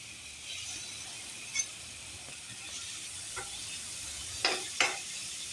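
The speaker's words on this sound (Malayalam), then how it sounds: "ഈ വറുത്തെടുത്ത പാനിൽ തന്നെ നമുക്ക് വെളിച്ചെണ്ണ ചേർത്ത് മസാലകളൊക്കെ വറുത്തെടുക്കാം" Chopped onions and spices fry in coconut oil in a pan, a soft steady sizzle punctuated by a few louder scrapes and stirring clicks from a utensil, close but quiet, with no talking.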